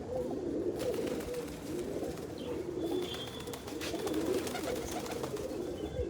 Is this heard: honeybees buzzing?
no